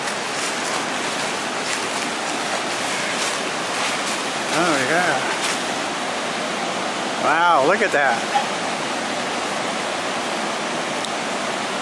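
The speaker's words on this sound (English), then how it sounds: "Such a gorgeous river." Broad steady rush of the McKenzie River in Oregon flowing, heard close and continuous, with brief voices talking over it midway.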